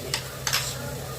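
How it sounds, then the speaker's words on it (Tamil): Onions sautéing in a pan for a homemade ginger-garlic masala, with a steady close sizzle and two brief stirring scrapes over a low background hum. "வெங்காயம் நல்லா வதங்கட்டும்"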